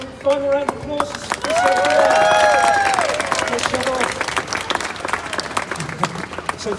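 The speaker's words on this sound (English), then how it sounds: "One final round of applause for" A street crowd on Edinburgh's Royal Mile breaks into loud, sustained applause close by, with a voice speaking over the start and cheering rising through the middle before the clapping thins out.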